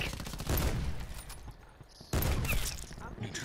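Gunfire in Call of Duty Black Ops 4 multiplayer, with two loud bursts of rapid shots separated by a quieter stretch. Voices and game noise sit underneath.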